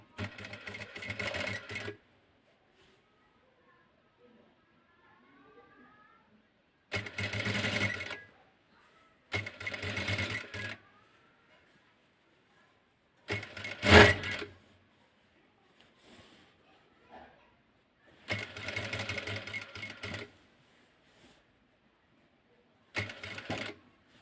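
A sewing machine stitches a kurti in short loud bursts separated by quiet pauses, with faint handling noises between runs.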